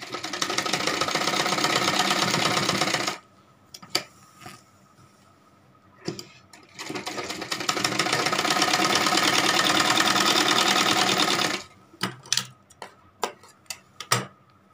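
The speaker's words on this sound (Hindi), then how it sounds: "इधर से भी कर देंगे हम सिलाई।" A domestic sewing machine stitches a palazzo in a fast steady rattling run, pauses briefly with a few clicks, runs again for several seconds, then stops amid scattered handling knocks.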